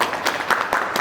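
A seated audience at a heart and brain health awareness event breaks into brief, loud applause, a steady patter of many hands with rhythmic surges.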